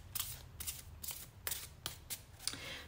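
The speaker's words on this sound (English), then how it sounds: "let's shuffle your tarot deck" A tarot card deck is shuffled by hand in quiet, rhythmic riffling bursts, about six or seven soft flutters at a steady pace, heard close over a low room hum.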